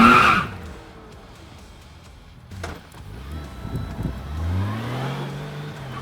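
A specially built Honda Goldwing trike accelerates hard, its engine note climbing steadily in pitch after a loud opening burst and a quieter pause, close by and growing louder toward the end.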